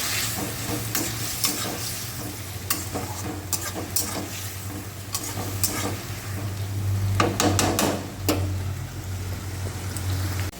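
Potatoes sizzle and fry in a small wok while being stirred, with a continuous loud crackle and repeated scraping strokes of the spoon against the pan.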